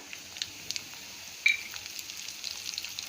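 Dried red chillies and curry leaves frying in hot oil, a faint steady sizzle with small crackling pops and a brief louder spatter as the ingredients go into the pan.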